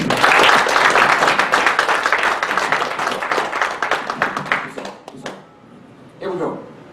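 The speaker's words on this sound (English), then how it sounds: "Clap your hands for Jesus." A congregation claps their hands in praise during a church service, dense broadband clapping that is loud at first and gradually thins out, ending in scattered claps with a voice rising near the end.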